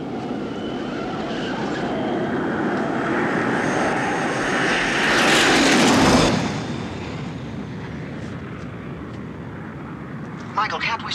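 A futuristic car's ramjet engine roars at high speed in a desert chase, a loud sustained rushing surge that swells to a peak midway, then eases into a steady roar with a brief rattle near the end.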